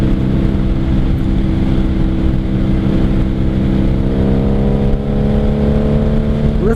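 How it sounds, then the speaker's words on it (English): A motorcycle engine rumbles loud and steady through Jardine exhaust pipes, its deep, throaty drone continuing up close and alone, with the pitch rising slightly as it revs toward the end. "Listen to the Jardine pipes."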